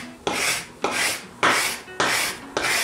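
A scraper rasps over a wooden workbench top, lifting contact cement softened with mineral spirits. Five steady, even scraping strokes repeat in a regular rhythm, close and fairly loud, with no talk.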